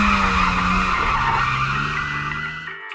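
Car tyres screech in a long continuous skid during a chase in a dubbed comic, loud and close, holding steady before cutting off abruptly.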